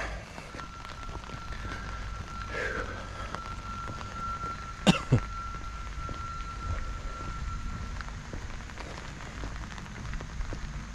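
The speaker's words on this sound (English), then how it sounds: "So, got a good little sprinkle today, guys." A light rain sprinkle patters softly and steadily during an outdoor walk, with a brief cough or throat clearing partway through.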